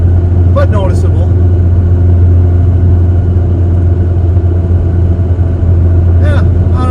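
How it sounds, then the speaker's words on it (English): A truck engine fitted with an HPS intake pipe drones steadily at a low, constant rumble with a noticeable intake note. Faint voices and brief higher sounds come through at moments. "there does seem to be a little bit more intake noise"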